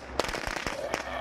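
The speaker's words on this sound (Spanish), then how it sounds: "¡Petarditos, petarditos!" Firecrackers going off in State of Decay 2, a quick series of sharp popping bursts over about a second, heard at moderate level with game ambience.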